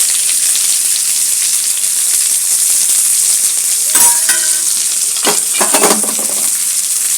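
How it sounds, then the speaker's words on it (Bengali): Black cumin seeds and onions hit hot oil for a Bengali bhola fish curry, giving a steady loud sizzle that crackles and spits harder in a few sudden bursts as pieces drop in and get stirred. "তেলটা গরম হয়ে গেছে বন্ধুরা, দিচ্ছি এবার কালো জিরে, দিচ্ছি পেঁয়াজ"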